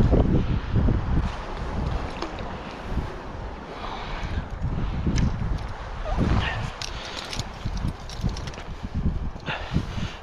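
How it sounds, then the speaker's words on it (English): Gusty wind buffets the microphone outdoors beside the water during trout fishing, with rough, uneven roaring and fluttering that rises and falls for the whole stretch and occasional sharper knocks. "Oh, this wind."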